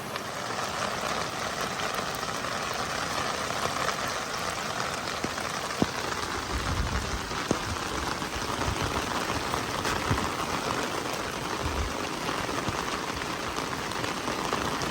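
Heavy storm rain pours steadily and loudly onto surfaces, a dense unbroken hiss lasting throughout, with a few sharp drips and knocks standing out and no voices.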